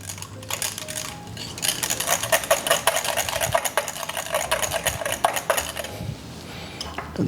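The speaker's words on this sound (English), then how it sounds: "let me just whisk the yogurt to make it smooth" Yogurt whisked in a bowl for a blueberry cheesecake: rapid, rhythmic metallic clicking and scraping of the whisk against the bowl, close and fairly loud, with a brief pause partway through before the beating resumes.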